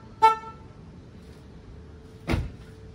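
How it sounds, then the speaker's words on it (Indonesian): Two short car horn toots from a Honda Jazz GD3 with a water-damaged horn and a broken wire, a second apart, each a brief buzzy blast with a harsh, slightly strained tone, alone in a quiet interior. "kita mau kasih tahu ke kalian klakson yang lama itu seperti apa"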